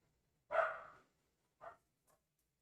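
Dogs bark nearby: one loud, full bark, then a shorter, quieter one and a faint final yip, all within a few seconds and with no talking.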